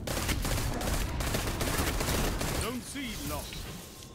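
Dense, continuous gunfire in the video game Destiny 2 fills the first few seconds, then thins as a voice speaks over the fading shots.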